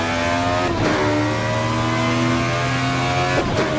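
A small race car's engine in Assetto Corsa Evo revs hard out of a hairpin, a loud, close, continuous climb in pitch through the gears with brief shifts, and no voices.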